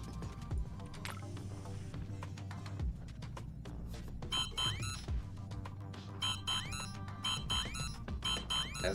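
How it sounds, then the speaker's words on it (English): Repeating electronic alarm tones pulse through a video game's busy soundscape, sounding in bursts from about the midpoint onward over mechanical clatter and game noise. "And I guess we'll set off an alarm."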